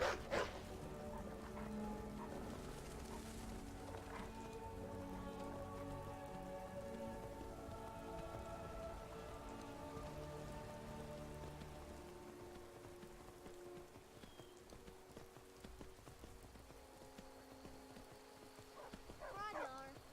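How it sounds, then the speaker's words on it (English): Rain falls in the video game Skyrim, a faint, steady hiss of drops on surfaces that continues throughout, with a few brief louder sounds near the end. "Uh-oh, it's about to rain."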